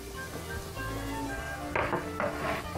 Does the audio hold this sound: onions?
yes